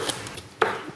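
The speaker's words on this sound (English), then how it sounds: "I think I'm going to chop my green beans maybe into thirds." A knife chops green beans on a cutting board, giving a couple of short, close, crisp knocks in a brief moment with no talking.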